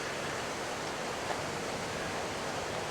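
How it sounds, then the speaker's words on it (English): Strong wind of around 25 to 30 miles an hour roars over a beach with breaking waves, forming a dense, continuous wash of noise with no distinct gusts and no voices. "There is like 25, 30 mile an hour winds. You guys can probably tell from the waves out here on this beach"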